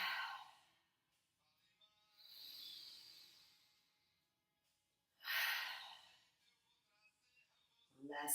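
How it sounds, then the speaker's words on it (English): Deep breaths during a yoga session: three slow, close inhales and exhales separated by quiet pauses, with soft airy hissing on each breath. "let's take 3 breaths here"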